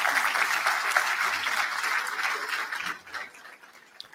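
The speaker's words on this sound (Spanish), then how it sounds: "les pido un fuerte aplauso y le demos la más cordial bienvenida" Audience applause at a Mexican engineering lecture ceremony welcoming a guest, dense steady clapping from a seated crowd that thins and fades toward the end.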